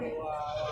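A young male goat bleats at a busy livestock market ahead of the Eid al-Adha sacrifice, a short close call set against steady crowd chatter.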